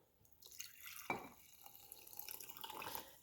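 Hot water poured from a tap into a container holding a cleaning pod, splashing and trickling in bursts that build into a steady fill, moderately quiet and near.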